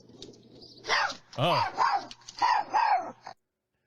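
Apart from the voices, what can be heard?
dog barking while chasing a coyote, played recording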